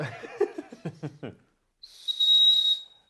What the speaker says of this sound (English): There's a whistle inside the bracelet.